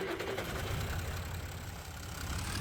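Tractor engine idling in Farming Simulator 25, a steady low rumble with a faint knocking texture, held evenly throughout with no speech.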